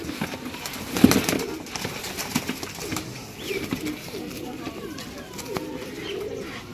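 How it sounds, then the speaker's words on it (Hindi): Pigeons cooing in a loft or coop, soft repeated low coos continuing throughout amid rustling, wing flutters and scattered background noise, with some voice activity faintly present. "कबूतर चेक करो दोस्तों।"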